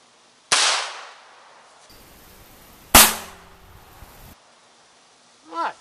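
A .22 rifle fired outdoors at a coffee target: two sharp, loud cracks about two seconds apart, each trailing off quickly, with a brief rustle and a faint handling noise at the end.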